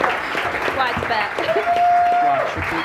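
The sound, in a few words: applause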